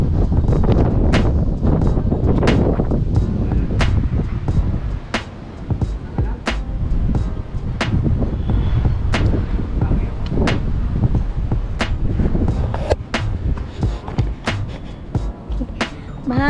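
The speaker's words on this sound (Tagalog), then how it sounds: "Mahangin dito sa taas." Strong wind buffets a microphone on a high city rooftop, loud and gusting throughout, with repeated sharp knocks and thumps from handling.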